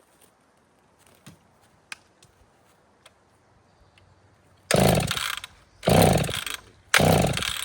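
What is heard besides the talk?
ported chainsaw running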